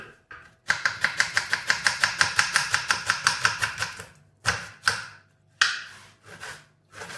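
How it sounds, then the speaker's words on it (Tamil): Knife chopping onion on a board for fish biryani: a fast, even run of about twenty crisp close taps, then a pause and a few slower, scattered cuts, with no talk. "வெங்காயம் நமக்கு தேவையான சைஸில் வெட்டிக்கலாம் வந்து."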